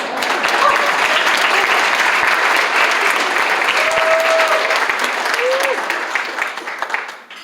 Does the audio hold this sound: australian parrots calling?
no